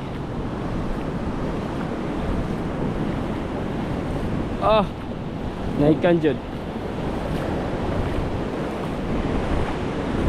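Floodwater surges in heavy waves along a seaside boulevard, with a continuous loud rushing roar and wind buffeting the microphone, and brief speech partway through.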